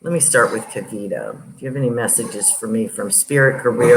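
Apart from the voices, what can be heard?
No everyday noises stand out.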